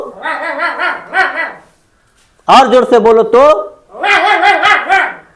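Voices imitate a dog barking in an animal-sounds lesson, with loud, close, repeated bow-wow calls in three bursts separated by a short pause. A speaker also talks briefly.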